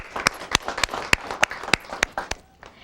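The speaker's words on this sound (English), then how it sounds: "Big round of applause to him." Applause from a TV studio audience at an Indian talk show: sharp, evenly spaced claps land on a steady beat for about three seconds over a soft crowd murmur, then fade out.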